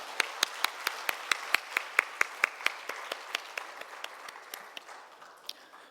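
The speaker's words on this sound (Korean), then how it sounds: "다시 한번 우리 감사와 격려 박수 하겠습니다." A church congregation claps at a Wednesday evening worship service: a steady stream of crisp, fairly close hand claps in a quick even rhythm that thins out toward the end, with no voices over it.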